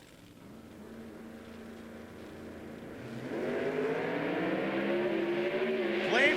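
Drag racing cars, a 6.9 Camaro and an SS Chevelle, idle and burble steadily before engines swell into a loud, rising roar that keeps building at close range.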